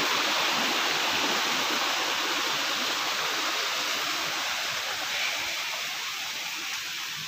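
Fast-flowing mountain stream rushing steadily at a village track in Chakothi, Azad Kashmir, a dense, continuous broadband roar close by that holds level throughout with no other sounds.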